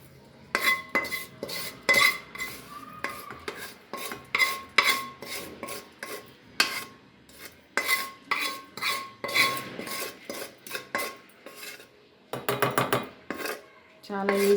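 Steel utensils clatter and scrape in a rapid, irregular run of sharp clinks as cooked bottle gourd is scooped from a pan into a mixer jar, with a brief burst of quick metallic taps near the end.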